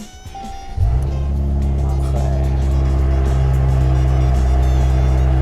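A Mercedes-AMG C 43 Coupe with a valve-controlled exhaust starts up: a brief crank, then a loud catch flaring to a rev before settling into a steady, deep idle that holds close and even to the end.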